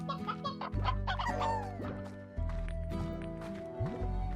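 Chickens cluck in a Slime Rancher game ranch, with repeated short clucks and fowl calls layered over a steady game background.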